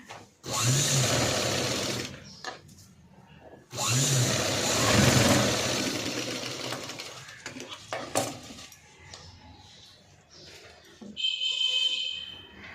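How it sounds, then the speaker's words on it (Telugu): Sewing machine running a double line of stitching along a boat-neck garment, two long loud bursts of fast motor whir separated by brief pauses, then softer handling of fabric and a short final whir. "ఇలాగ డబల్ స్టిచ్ అనేది వేసుకోవాలి"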